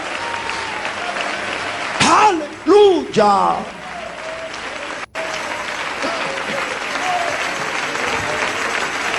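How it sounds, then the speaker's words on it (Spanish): A standing church congregation keeps up steady, loud applause of praise throughout, while a voice shouts briefly over the clapping near the middle. "Ponte de pie y dale ese aplauso de alabanza a Jesús."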